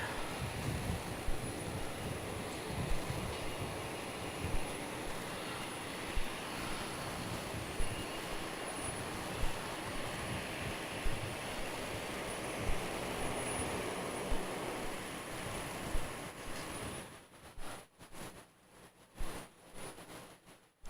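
A Virgin Australia jet, flight 780 from Cairns, arriving at Brisbane Airport, heard as a steady distant engine roar mixed with wind buffeting the microphone, fading off toward the end.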